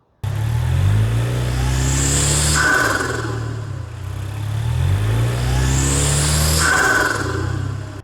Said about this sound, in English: let's go ahead and hear how the intake sounds